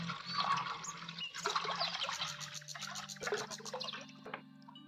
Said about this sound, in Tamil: அதுக்கு நம்ம ஃபஸ்ட்டு இந்த கடாயில் தண்ணியை நிரப்பிக்கலாம்.